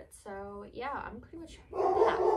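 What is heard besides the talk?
dog barking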